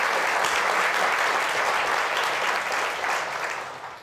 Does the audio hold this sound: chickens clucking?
no